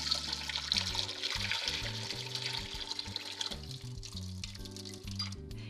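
Hot water drains off blanched tomatoes in a home kitchen, a soft steady pouring and trickling under a low humming tone, fairly faint and continuous.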